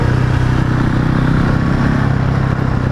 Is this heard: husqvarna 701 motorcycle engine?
yes